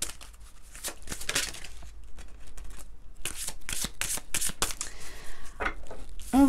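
Oracle cards shuffled for a card reading: a close, busy run of papery riffles, slides and flicks in irregular bursts, loud and crisp, with a short pause midway and no one talking.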